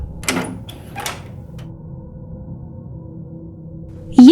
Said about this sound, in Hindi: वह उठी और दरवाजा खोला।